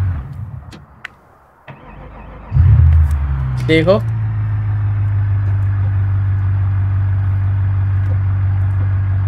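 A car engine in GTA 5, an ordinary road car, starts up and settles into a steady loud idle hum, with someone talking over it.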